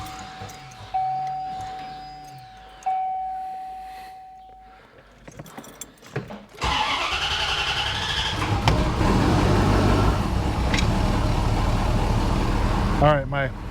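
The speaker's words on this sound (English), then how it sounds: "We're gonna start the car up," A C4 Corvette is started after repair work: keys jangle and a door chime sounds first, then the engine cranks and catches into a steady close idle that runs to the end.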